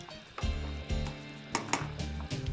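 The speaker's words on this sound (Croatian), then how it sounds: "I kad zavri, na laganoj vatri kuhamo povremeno miješajući." Pašticada, a Dalmatian beef stew with stock, cloves and dried prunes, simmering on low heat in a pot while being stirred, giving a soft steady bubbling broken by several spoon scrapes and clinks against the pot.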